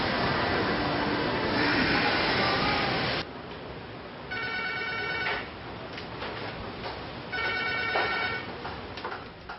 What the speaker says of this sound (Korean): 지금 밖에 계시다가 여기 어떻게 벨소리 전화 소리 다 들려요